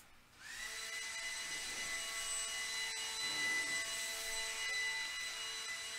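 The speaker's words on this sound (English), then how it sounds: "out here with the blower making all this extra noise" A leaf blower running outdoors nearby, a loud steady whine that starts up and holds a constant drone throughout.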